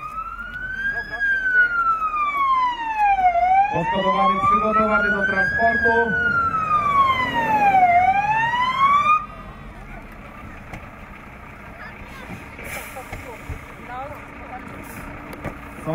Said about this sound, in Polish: Jedzie wóz strażacki.